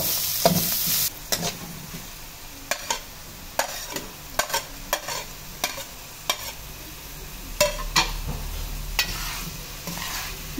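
Beef, hot dog and mushroom sizzle loudly in a pan as lasagna toppings, with frequent sharp scraping and clacking stirs over a steady frying hiss, close and with no voices.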